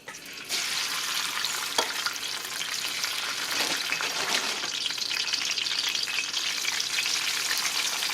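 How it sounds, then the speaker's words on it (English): Steady, crackling sizzle of fries frying in hot oil, loud and close, continuing unbroken for several seconds after a brief quieter start. "we're ready to fry"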